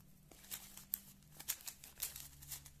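A white plastic packet from a parcel crinkles and rustles as it is handled up close, with a series of soft, irregular crackles and small sharp snaps over a quiet background.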